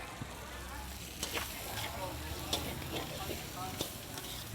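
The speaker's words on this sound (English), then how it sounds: "To that we add our prawns." Ten peeled, head-off banana prawns frying in curry paste in a Thai kitchen on Koh Samui, a steady close crackling sizzle with occasional sharp pops and stirring scrapes.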